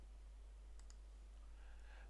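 A computer mouse clicks a Read More link on a Joomla 3.2 website: two quick, crisp clicks close together over a quiet, humming background.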